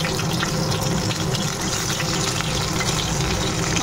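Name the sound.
fish frying in a pan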